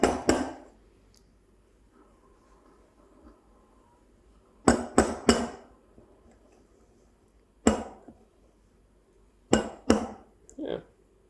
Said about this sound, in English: just knock it on the jug, on the counter to break any bubbles